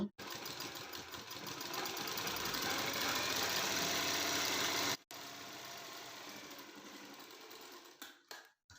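A sewing machine runs steadily, stitching the edge of a shirt's button placket. It makes a loud continuous mechanical whir for about five seconds, then after a brief stop a second shorter run follows and trails off.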